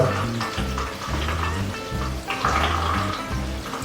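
Water churning through an Aquael Hypermax 4500 BT canister aquarium filter that still holds trapped air, a steady close gurgling and hissing flow with irregular bubbly pulses and no voices.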